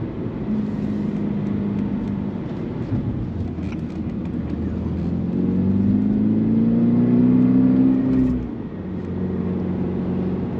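A Toyota GR86 engine drones steadily from inside the car on a curvy road, swelling into a rising rev around the middle before easing off again, with continuous road and cabin noise underneath.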